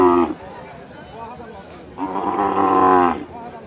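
At a cattle market near a border area selling Sahiwal and Gir cattle, a calf gives two deep, loud moos close by: a brief one followed after a pause by a longer, sustained call, with low background murmur.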